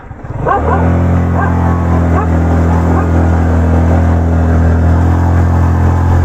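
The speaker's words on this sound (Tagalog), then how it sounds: "Tingnan natin kung gaano kalakas tong motor ni Mike." A motorcycle engine labours steadily uphill under load, a loud close drone with a deep low hum that holds from start to finish.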